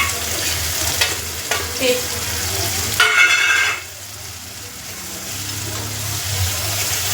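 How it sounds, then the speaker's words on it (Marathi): Beetroot paste and tomato paste fry in oil with onions for street-style butter pav bhaji, a close loud sizzle with brief stirring clatter, easing to a softer hiss partway through; a single short spoken word is heard. "आता मी आहे ना ही बीटची पेस्ट आणि टमाटाची पेस्ट हे दोघी ह्याच्यामध्ये टाकते कांद्यामध्ये. मस्त तेल सुटेपर्यंत तळून घ्यायचं"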